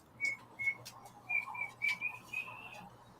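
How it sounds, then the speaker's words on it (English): A child whistles a series of short, high, clear notes in a loose rhythm, fairly close, with a quiet hum in the background. "Somebody's whistling."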